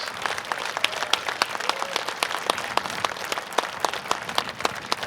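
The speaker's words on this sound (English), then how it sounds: "let's give him a big round of applause." Audience at a 25th anniversary community event giving a round of applause, steady dense clapping with distinct individual claps standing out, continuing without voices.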